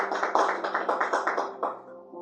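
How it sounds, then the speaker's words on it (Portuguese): A church congregation clapping hands in praise during a Portuguese-language service, rhythmic claps repeating steadily for about two seconds before trailing off, with a sustained musical tone underneath. "Palmas para Jesus, irmãos."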